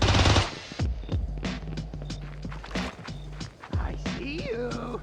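Rapid video-game gunfire from a cop shooter fires in quick bursts of sharp, loud shots with short pauses, plus impacts, all layered over busy game noise.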